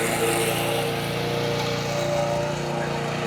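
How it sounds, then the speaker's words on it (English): A lawn mower drones steadily as someone mows grass near a temple in Bali, its engine tone loud and continuous from fairly close. "they're mowing the lawn"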